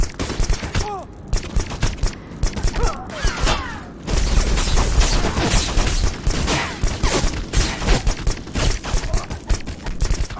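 Rapid bursts of gunfire from the shooter game Black in a foundry level, dense and loud, alternating sharp single shots with sustained automatic volleys and mechanical clatter, with brief quieter gaps before heavy continuous firing.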